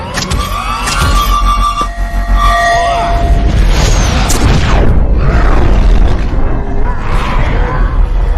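A sonic cannon fires: a deep, heavy booming blast swells and rumbles loudly for several seconds after a few sharp high tones and clanks.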